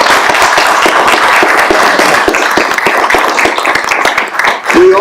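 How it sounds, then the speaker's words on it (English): Round of applause at a Chattanooga city council meeting, loud close clapping from the chamber audience, sustained and dense before thinning out near the end. "Now, Mr. Chief, if you want a round of applause."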